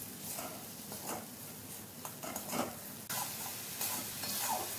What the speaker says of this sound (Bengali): সামান্য সামান্য করে জল দিয়ে দিয়ে মশলাটা আমি কষিয়ে নিচ্ছি।